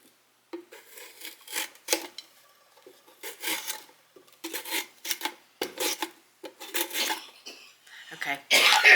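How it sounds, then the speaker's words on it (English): Fresh-harvested carrots are grated by hand on a flat grater, producing close, rough rasping strokes in irregular bursts with short pauses between passes. "Grating it."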